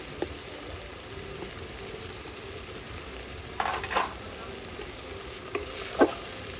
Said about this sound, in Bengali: এবারে মশলাটা একটু সময় নিয়ে কষিয়ে নেব।